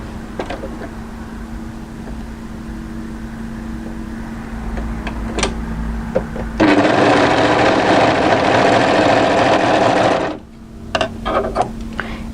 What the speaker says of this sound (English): overlock the seam in place